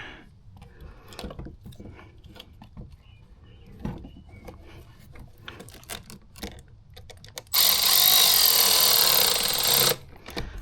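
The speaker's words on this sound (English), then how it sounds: "Gotta tighten up my clamp here." Tools click and ratchet in uneven bursts while a hose clamp is tightened on a 2014 Ford Focus purge valve during an EVAP leak repair. A loud, rushing broadband burst lasts about two seconds near the end.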